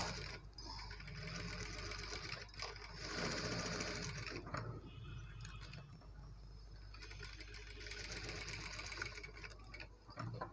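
A sewing machine runs steadily while stitching a second line over the first along a pinned blouse seam, its motor whirring close and continuous with a few brief pauses.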